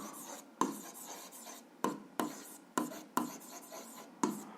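Pen writing out an algebra solution by hand on paper, heard as quiet close scratching in short bursts, each stroke starting sharply and fading, about six in a row.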